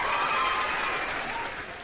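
A brief burst of dense clapping from a group, steady and fairly close, fading slightly toward the end, with no voices over it.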